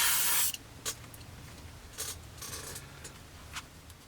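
A short burst of spray paint hisses loudly at the start, laying a thick wet coat on a 1/48 scale P-40N Warhawk model kit, followed by quieter rustles and faint scraping handling sounds.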